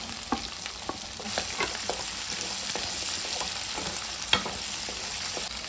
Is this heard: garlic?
yes